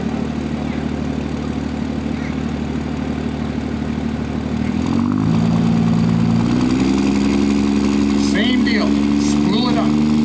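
A diesel pulling truck at an agricultural fair idles with a deep drone, then revs up and holds a rising, louder engine note as it builds boost, with voices talking over it.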